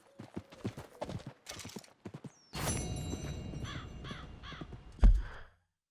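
Horse hooves clip-clop steadily in Red Dead Redemption 2, close and moderately loud for a few seconds amid game ambience, with crow caws nearby and a sharp thump near the end.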